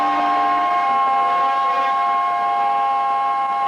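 A locomotive sounds a long, steady, loud whistle at the National Railway Museum, one unbroken tonal blast holding for several seconds at close range.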